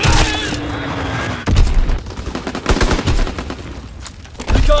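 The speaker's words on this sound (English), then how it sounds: "Dropping Azon bomb." Azon bomb dropped in Call of Duty WW2 multiplayer, detonating in loud heavy booms amid steady battlefield gunfire, with a sharp blast partway through and another surging at the end.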